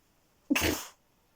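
Single short sneeze, close and fairly loud, a quick breathy burst lasting under half a second in a quiet room.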